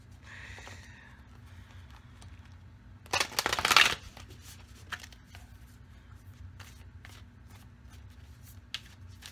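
A deck of Mystical Shaman Oracle cards is shuffled in one short, crisp riffling burst, close and clear, with faint handling rustles before and after in a quiet room.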